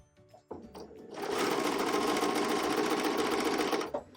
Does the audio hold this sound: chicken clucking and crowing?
no